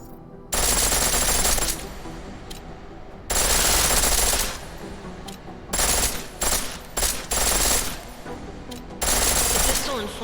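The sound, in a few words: pistol firing full auto in Deus Ex: Mankind Divided video game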